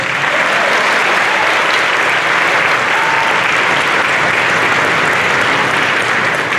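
An audience at a middle school honors concert applauds, giving a loud, sustained and evenly dense roar of clapping from many people that holds steady throughout.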